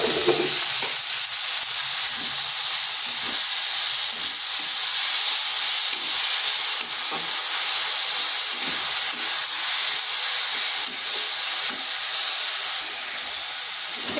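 Cabbage hisses and steams in hot oil with whole cumin in a kadai, a steady, loud sizzle lasting throughout with no talking.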